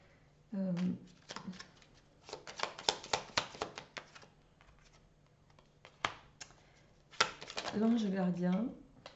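Tarot cards being shuffled and laid out in quick crisp riffles and snaps, close and moderately loud, with someone talking at the start and end.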